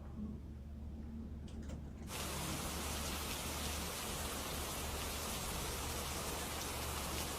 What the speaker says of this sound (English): Can you just put on like rain sounds